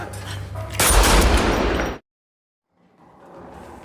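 Gunfire in a police shootout bursts out loud for about a second, then cuts to silence before faint background noise returns.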